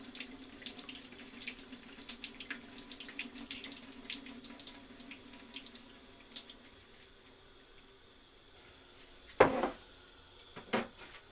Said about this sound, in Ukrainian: Знову зливаю водичку.